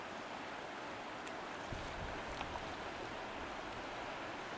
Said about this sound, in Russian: Вот такая вот волна.